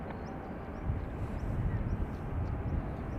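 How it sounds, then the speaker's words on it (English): An Aer Lingus Airbus A330 arriving from JFK on approach to Dublin Airport's north runway makes a steady, distant jet roar over wind, swelling slightly midway. "So this is our Aer Lingus A330 from JFK."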